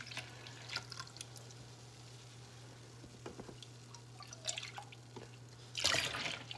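Vinegar poured from a container into a measuring cup for a homemade carpet-cleaner defoamer, with faint drips and trickling, then a short louder splash of liquid near the end, over a steady low hum.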